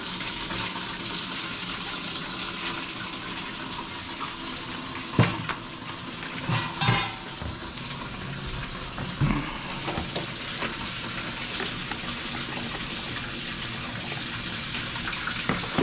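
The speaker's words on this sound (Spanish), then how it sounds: "vamos a quitarle el agua, a drenarle el agua." Water drains steadily from a Hoshizaki KM900 ice machine, a continuous hissing gush with occasional louder splashes and knocks, heard close up with no talk.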